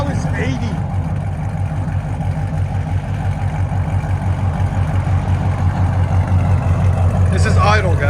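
A 2017 Chevy SS (Holden) with a 6.2L V8, headers and straight pipes idles loud and close, a deep steady rumble throughout while a person talks over it.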